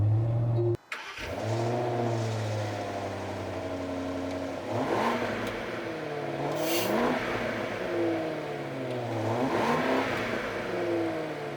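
A Land Rover Range Rover SE cranks with a quick starter catch. The engine then settles into a steady mid-pitched idle with a few revving swells, close and clear with no talking over it.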